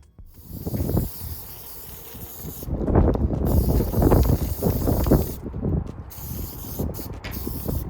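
Bursts of aerosol spray paint hiss in short and long blasts outdoors onto a tumbler, with a breezy rush of wind behind them.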